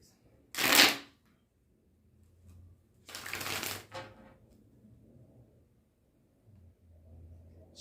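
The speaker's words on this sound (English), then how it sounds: "I'm gonna shuffle these one more time just to make sure" Tarot cards being shuffled: two brisk riffling bursts a couple of seconds apart, close and crisp, followed by soft handling rustles in a quiet room.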